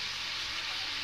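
Potatoes fry in a pan with salt and turmeric for a country chicken curry, giving off a steady, even sizzle with a soft hiss of steam and no distinct stirring strokes.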